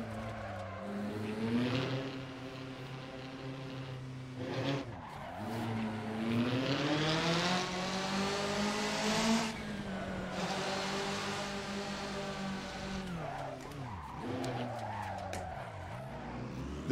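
Rally car from the Rally Legends mod for Assetto Corsa, engine revving loudly and rising through the gears with repeated shifts and lifts, steady close mechanical drone over the whole stretch.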